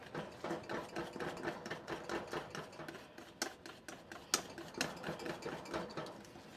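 Whisking an egg mixture in a pan on the stove for Nanaimo bars: a steady run of quick, rhythmic metallic taps and scrapes, close and fairly loud, going on without pause and with no talking.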